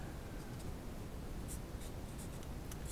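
A pen scratches steadily across paper while physics equations are written out, a continuous close, dry rasp with a few brighter strokes near the end.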